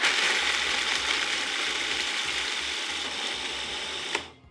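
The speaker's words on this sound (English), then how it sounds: "We want to blend these to just coarse crumbs." A food processor blends pecans into coarse crumbs, a loud, steady whirring and grinding roar of blade and nuts that runs without pause and stops abruptly near the end.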